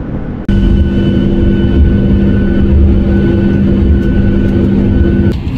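A steady, loud jet engine roar with a sustained whine sets in abruptly and holds for several seconds before easing slightly, the sound of an airplane landing at an airport in a bitterly cold city at about minus 19 degrees.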